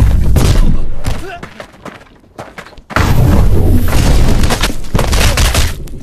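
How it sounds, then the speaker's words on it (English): A gravity bomb spell in Blade and Sorcery Nomad bursts with heavy booming thuds, goes quiet for a moment, then a second loud blast rumbles on. "Sends out a huge gravity bomb."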